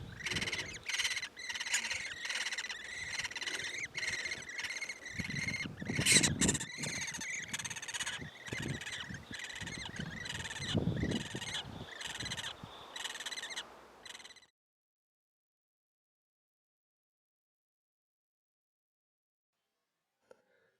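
Woodpecker chicks calling from inside a tree hollow, insistent rapid chattering and squeaking cries repeated steadily and up close for about fourteen seconds, then cutting off to near silence.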